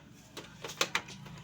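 An HP LaserJet 1020 printer with a fault gives off a few sharp, quiet clicks, two of them close together, over a low mechanical hum.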